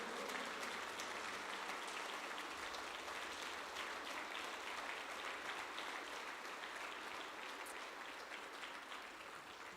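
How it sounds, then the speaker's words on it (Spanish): Church congregation applauding loudly and continuously, a dense sustained wash of many hands clapping filling the room with no break. "dale ofrenda de palmas a Cristo, dáselo fuerte a Cristo."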